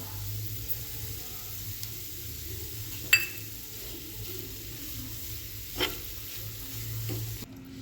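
Spicy potatoes with spices and sesame seeds being stirred in a pan, a soft steady scrape and quiet sizzle with a couple of brief clinks from the spoon against the pan.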